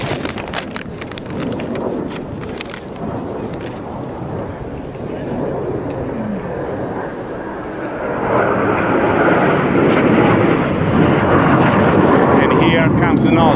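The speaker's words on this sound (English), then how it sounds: "performing a sharp Immelman made very tight by the use of the nozzle right over the top" A thrust-vectoring jet pulls a tight Immelman at an air show. Its loud, rushing engine roar is heard from a distance and swells in the second half, with wind buffeting the microphone.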